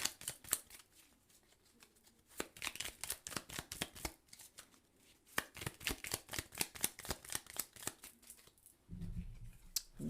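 Tarot cards being shuffled and drawn, quiet rapid riffling flutters and snaps in irregular bursts, close and soft, with a brief low thud near the end.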